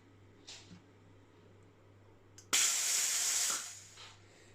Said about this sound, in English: That's a lot of steam.